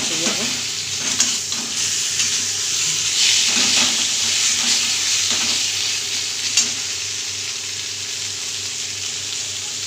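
A hilsa fish head fries with spice paste in a pan, giving a steady loud sizzle with intermittent stirring scrapes throughout.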